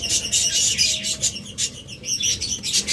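Lovebirds, including a Lutino Fischer's split Ino red-eye pair, chirp in a dense, shrill chatter that runs continuously and close by, with no talking over it.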